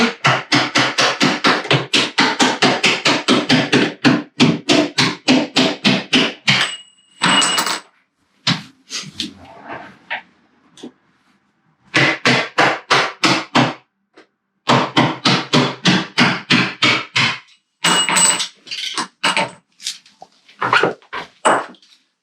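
Rapid hammer taps on a flat-head screwdriver wedged under a door hinge pin, in several quick bursts separated by short pauses, close and loud, with no talking.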